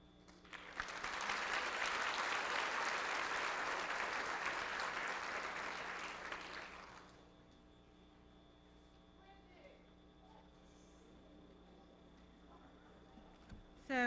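Applause from a high school graduation audience fills the hall, loud and sustained for about six seconds, then fades away into quiet room tone.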